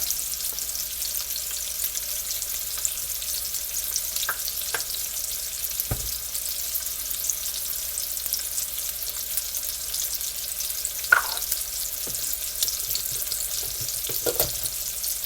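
A T-bone steak frying in a pan, cooked medium well: a steady, even sizzle holds throughout with a few faint clinks and taps, no voices.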